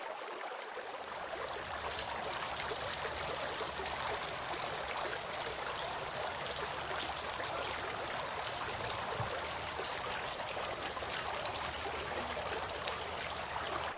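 Water runs in a steady, continuous trickling stream during ablution washing before prayer, close and even throughout, with no talk.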